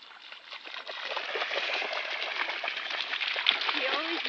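Springer spaniel splashing through floodwater on a golf course, a continuous close, bright watery splatter and slosh lasting several seconds, fairly quiet.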